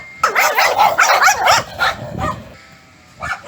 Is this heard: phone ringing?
no